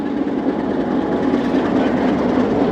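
The Thal Express, hauled by locomotive 8030, rolls along with a loud, continuous rumble and a low, steady clatter of wheels on track, close and constant.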